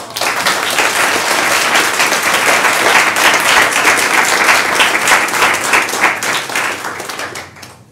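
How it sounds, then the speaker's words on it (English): Audience at a Social Media Week talk gives a sustained round of applause, loud and dense clapping that holds steady for about seven seconds before fading out near the end. "give Chance a round of applause"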